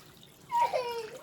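Apple cider vinegar pours into a pot holding sugar, a short close liquid splash and trickle with a rising gurgling tone, about a second long.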